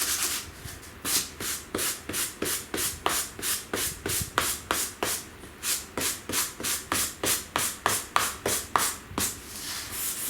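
Sandpaper rubbing paint off a distressed wooden sign in quick regular back-and-forth strokes, close and distinct, about two or three strokes per second.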